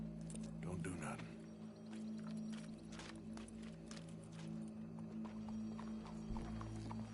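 Horse hooves clip-clop steadily in Red Dead Redemption 2, a moderately loud, regular walking rhythm over low game ambience and music, with voices talking intermittently.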